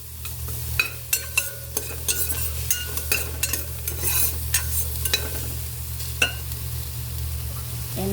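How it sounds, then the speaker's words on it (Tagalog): Onions being sautéed without oil in a clay pot for sinigang, with a close, steady sizzle broken by repeated sharp clicks and scrapes of a utensil stirring against the pot, over a low hum and with no voices. "Lagay na natin ang ating sibuyas para tayong magigisa pero walang mantika."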